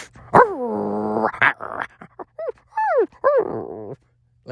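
A human voice imitating a dog, making a run of short barks and whiny yips with brief pauses, close and fairly loud.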